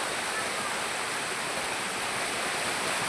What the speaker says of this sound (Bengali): আমার পাশেই ঝর্ণা। আপনারা শুনতে পাচ্ছেন কিনা শব্দ?